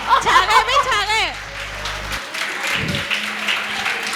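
At a comic poetry show, a live audience of women breaks into sustained applause mixed with chuckles after a man's brief spoken line, the clapping lasting a few seconds as a dense, steady patter.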